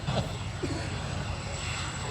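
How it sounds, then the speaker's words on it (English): A jet-powered portable outhouse running at an outdoor airshow, a steady broad roaring engine noise with faint breathy puffs, heard from a distance amid crowd background and some voices. "Little puffs of energy coming out of the spout of that jet outhouse, folks."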